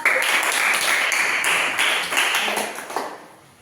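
A school class claps hands in a brief burst of close, dense applause that tapers off toward the end.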